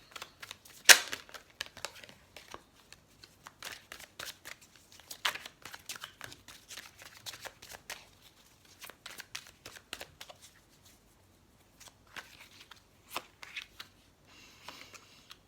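Tarot cards shuffled and drawn by hand, giving quiet, irregular papery riffles, flicks and soft slaps spread over the whole stretch with brief pauses, close up and with no talk.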